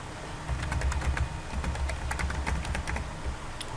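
A computer keyboard tapped in quick, fairly even keystrokes while entering a username and network path during software login setup, close over a steady hum of room and electrical noise, with no talking.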